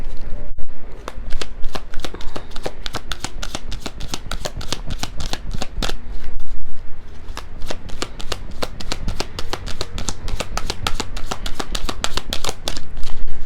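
Tarot cards are shuffled close to the microphone in rapid, continuous riffling flutters, a dense run of crisp card snaps that hardly pauses, with brief speech in the background.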